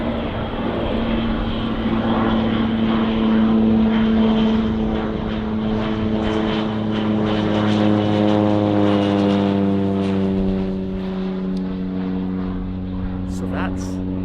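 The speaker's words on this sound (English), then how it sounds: "there is a spraying airplane that you will see about to fly over" A crop-spraying airplane drones overhead outdoors during a deer hunt in Australia, a steady propeller-engine hum that holds loud throughout and slowly shifts in pitch as it passes, with people talking over it.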